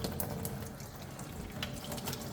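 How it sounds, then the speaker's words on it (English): Hot water runs steadily from a faucet into a work sink, a continuous broadband rush with no talking. "I'm going to turn on the hot water."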